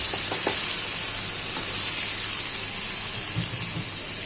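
Boiled ash gourd drops into a hot pan and sets off a steady, loud sizzle, a continuous bright hiss with a few soft clinks of stirring.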